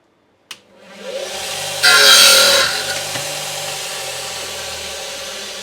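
A shop machine cuts a golf club shaft one inch down during a Titleist TSR 2 club build: a sharp click starts the motor whirring up, a brief loud grinding burst as the blade bites, then a steady motor hum winding on.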